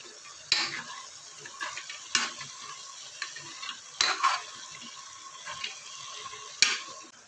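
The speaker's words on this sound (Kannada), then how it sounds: "ಕಡಲೆಕಾಳು ಹಲಸಿನಕಾಯಿನೆಲ್ಲ ನೀಟಾಗಿ ಮಿಕ್ಸ್ ಮಾಡ್ಕೊಳ್ಳೋಣ." Chickpeas and jackfruit pieces are stirred in a pan for sambar, giving a soft sizzle broken by several sharp spoon scrapes and knocks against the metal at irregular intervals, close and fairly quiet, with no voices.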